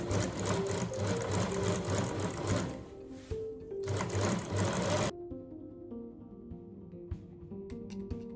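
A sewing machine runs close by, stitching a straight understitch line on fabric in quick steady bursts, with a brief pause partway through and a stop near the end followed by faint handling clicks.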